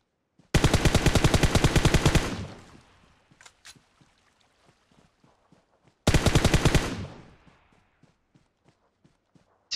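Automatic gunfire in PUBG Mobile: two long, loud, rapid bursts, each roughly two seconds, trailing into echoing decay and scattered ticking footsteps between them.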